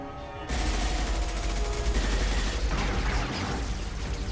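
Sustained rapid gunfire in a Mass Effect 2 firefight, a loud continuous burst of overlapping shots and booms that kicks in abruptly after a brief quieter lead-in and keeps going without pause.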